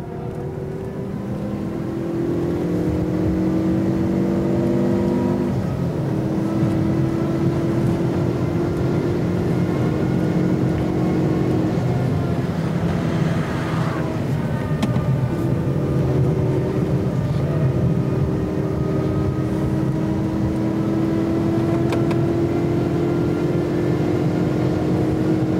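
A Ford Focus RS lapping the Nordschleife, its engine droning steadily from inside the cabin with pitch rising and falling through gear changes, a continuous loud hum.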